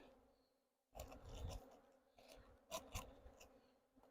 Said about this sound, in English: Let the bees eat.